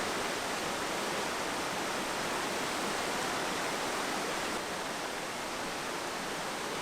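A huge waterfall in a limestone area of Pyeongchang roars as a dense, steady, full-band rush of falling water, loud and unbroken throughout with no voices.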